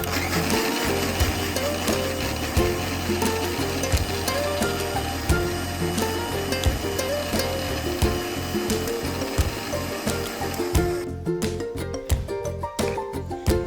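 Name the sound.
grapes, sugar and cold water blended in a mixer jar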